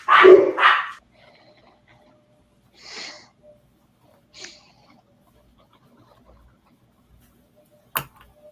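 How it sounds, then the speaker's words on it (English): Dogs bark during an online party executive committee meeting, first with a loud double bark up close, then a few fainter, scattered barks and a sharp final yelp amid quiet. "when the dogs start barking, it's hard to stop"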